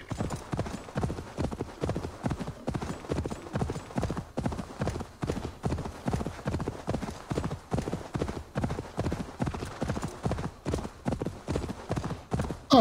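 Steady rhythmic clip-clop of horse hooves trotting in the video game Assassin's Creed Valhalla, continuous and evenly paced throughout, fairly loud with no talking.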